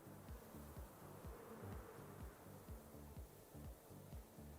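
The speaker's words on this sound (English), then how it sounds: "I hear crickets" Crickets chirp as ambient night sound in a video game, a steady, evenly pulsing insect trill that repeats throughout at a low, distant level with no voices.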